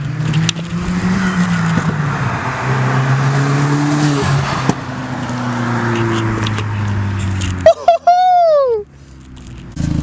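A Hyundai Genesis with its muffler deleted approaches and passes, a loud, raspy engine drone rising and falling, with a sharp tire-squeal-like chirp near the end; voices talk over it.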